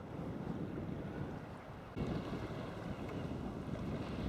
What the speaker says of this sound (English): The wind's got me now.